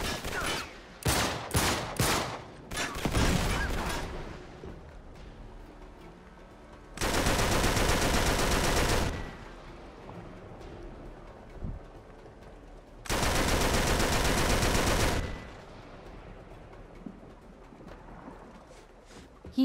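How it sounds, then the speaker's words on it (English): Machine gun fire in the video game Uncharted: Drake's Deception, several short bursts early and then two long sustained volleys, loud and close, with quieter game ambience between. "Oh, there's a machine gun up there as well."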